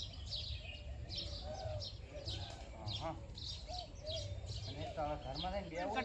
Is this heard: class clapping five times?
no